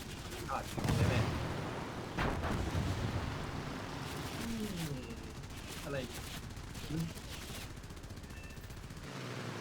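Distant bursts of gunfire and explosions roll through a War Thunder air battle, with intermittent booms and rumbling over steady engine drone while players talk excitedly over them.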